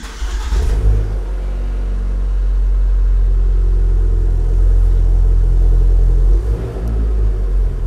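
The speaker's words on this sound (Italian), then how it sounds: "quello che adesso sentiremo come sound non è quello della macchina stock con unicamente il silenziatore, ma è il silenziatore con già una modifica fatta" A cold Fiat 500 Abarth with a modified exhaust silencer rumbles close by, a deep, steady engine drone that swells briefly in revs and holds for several seconds, alone without talk.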